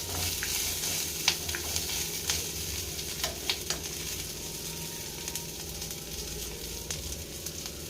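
Onions fry for tamarind chutney, giving a continuous close sizzle under intermittent scraping stirs and occasional sharp utensil taps.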